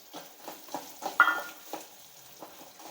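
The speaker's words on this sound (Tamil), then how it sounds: "வெங்காயம் கட் பண்ணி வச்சுருக்கேன் அதையும் போட்டு வதக்கிக்கலாம்" Small shallots being stirred and sautéed with spices in a pan for a country chicken curry, giving soft scraping stirs and a light sizzle in intermittent pulses, fairly quiet and close.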